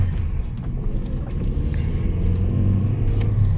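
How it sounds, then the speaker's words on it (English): A car with a manual gearbox is driven, heard from inside the cabin as a steady low engine and road rumble that grows slightly toward the end, with no voices. "I haven't drove standard since over a year."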